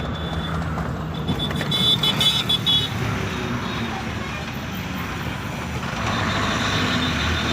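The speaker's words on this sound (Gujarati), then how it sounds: "ટ્રાફિક થઈ ગયો હવે આગળ" Road traffic with trucks near a large company loading site: engine rumble and passing vehicles, a brief tonal toot or horn early on, steady and moderately loud.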